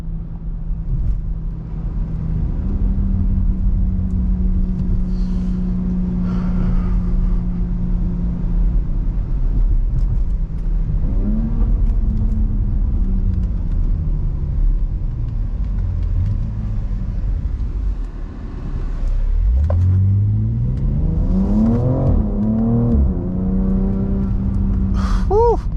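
A lifted and stretched BMW M3 engine under way, a close, steady droning rumble that shifts in pitch through gear changes, easing off briefly then revving back up.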